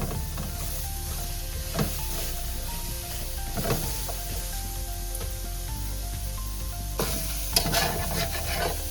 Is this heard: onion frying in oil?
yes